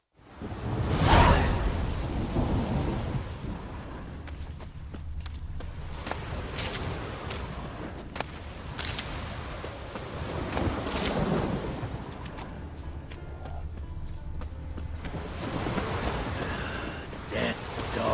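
Thunderstorm with steady rain in The Witcher 3, a loud rolling thunder burst near the start followed by continuous rainfall and gusting wind, with occasional swells of rumble throughout.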